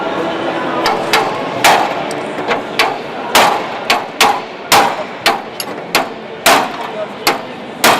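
Hammer blows ring sharply against metal during a Triumph TR7 restoration, a dozen or so loud, evenly spaced strikes, close and prominent over faint background murmur.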